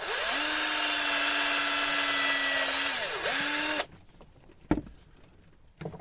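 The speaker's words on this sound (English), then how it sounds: "I'll drill a hole." A power drill bores a hole through a wood slice, a loud steady whine that dips briefly near the end before cutting out, followed by a few faint knocks and handling noises.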